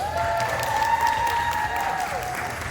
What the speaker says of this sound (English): Another round of applause for our lovely judges